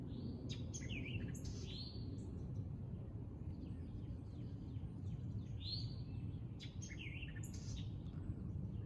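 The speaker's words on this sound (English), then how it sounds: "the calls you're hearing are eastern towhee, and that funky one is the white-eyed vireo" Eastern towhee and white-eyed vireo calling outdoors in Atlanta woodland, a few clear chirping phrases rising over a steady low rumble of background noise, repeated at intervals and fairly close.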